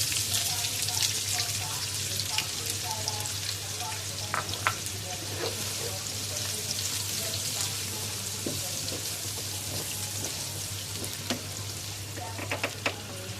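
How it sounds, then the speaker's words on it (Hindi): Chopped onions sizzle steadily in a pan with fried taro root, a dense continuous frying hiss with occasional clinks and stirring sounds, close up under a constant low hum. "अब चॉप की हुई प्याज डाल रही हूँ अब मैं"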